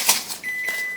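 A kitchen oven signals that preheating is done with a single sustained electronic beep tone, clear and close, following a brief clatter of kitchen handling.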